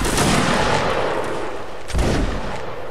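A musket volley goes off in a regimental line battle video game: a dense, loud burst of overlapping shots rolls into a long rumbling roar, with a second swell of fire near the end.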